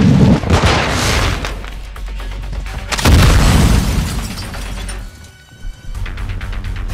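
Heavy explosions boom through a co-op shooter on PS5, a big blast near the start and another around the three-second mark, followed by rumbling debris and lingering rumble with scattered crackles.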